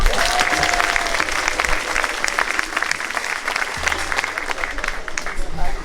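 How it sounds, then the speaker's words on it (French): A congregation at a closing Mass applauds loudly and continuously, a thick rain-like clatter of hands, with some murmured voices mixed in. "on peut aussi les applaudir"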